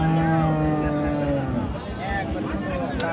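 Cattle at a busy livestock market selling cows and calves, a loud drawn-out moo up close, over crowd hubbub and voices.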